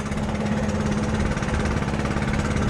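A small ECHO two-stroke engine runs steadily after a pull start, a close, even buzzing drone with a rough pulsing texture and no talk.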